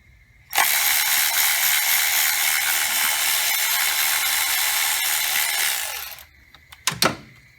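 A ratchet works a bolt loose on a 2010 Camaro 3.6 engine near the camshaft solenoids, giving a loud, continuous mechanical whirr for about six seconds, then a few quick clicks and clunks.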